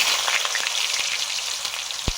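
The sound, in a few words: frying potatoes in a pan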